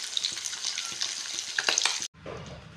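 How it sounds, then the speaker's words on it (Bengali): Vegetables frying with mustard paste, onion paste and green chilies in a home kitchen pan, a steady close sizzle with soft stirring knocks that cuts out sharply near the end before a quieter sizzle resumes. "সর্ষে বাটা দিয়ে এগুলো আমি"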